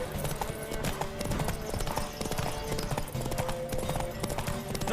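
Galloping horses in The Witcher 3 pound out dense, continuous hoofbeats with a whinny or two, loud and steady throughout with no speech.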